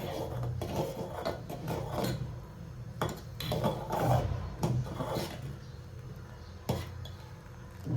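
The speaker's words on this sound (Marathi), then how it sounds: "आता बघा आपलं जायफळ आहे ना, त्याला ह्याच्यावरती किसणीवरती असं टाकून घ्यायचं" Nutmeg scraped across a kitchen grater for sago kheer, giving a series of close, uneven rasping strokes with small metallic clinks, heard alone without talk.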